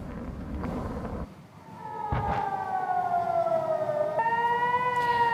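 An air raid siren wails over Tel Aviv, Israel, its rising and falling tone heard at a distance and held for several seconds after a short burst of street noise.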